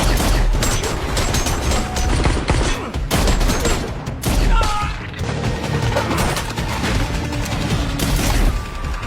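Dense, loud gunfire from a film action scene about a ballerina trained as an assassin, volleys of shots and crashes filling the whole stretch with no break.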